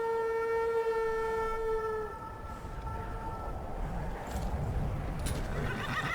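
A horse in the video game Skyrim whinnies with a long, high tonal call that fades into rumbling background noise and faint clattering.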